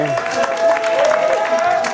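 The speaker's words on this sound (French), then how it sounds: "on peut les applaudir, s'il vous plaît" Applause from the audience at a regional seniors' digital trophy final, greeting contestants with a continuous patter of clapping that sits under a talking voice and a held tone.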